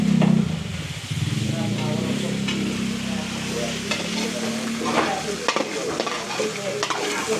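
Garlic fries in a pan with a busy crackling sizzle, a louder hiss at the start settling into steady frying with scattered scrapes and taps of a utensil, while someone talks over it.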